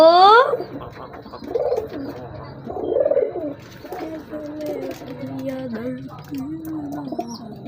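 Pigeons coo steadily up close, low rolling calls overlapping one another, with a few chirps and faint background voices.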